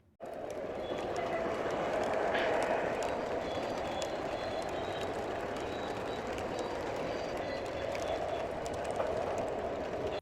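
A steady rumbling and clattering of a long model train, an SD70ACe Hiawatha set, running continuously on track, with faint rhythmic clicks, constant and close throughout.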